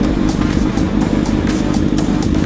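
A motorcycle engine drones steadily while riding, a loud continuous low rumble with wind noise pressing close, unbroken from start to finish.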